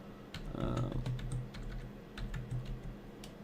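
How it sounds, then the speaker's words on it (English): A computer keyboard clatters in quick runs of keystrokes, close and fairly clear, with a low hum and a brief voice underneath. "I will actually type that in again"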